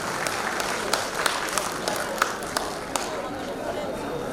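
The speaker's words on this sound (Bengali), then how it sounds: "সবাই একটু করতালি দিয়ে অভিনন্দিত করুন।" A crowd at a recreation club's annual cultural function applauds in a steady, moderately loud patter, with scattered sharper individual claps and faint voices underneath.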